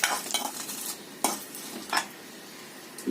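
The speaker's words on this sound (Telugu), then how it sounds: "ఈ పప్పులు వేగిన తర్వాత ఎర్రగా రావాలండి." Lentils frying in oil in a pan, a soft sizzle broken by three or four short scraping stirs of a spoon, close and quiet.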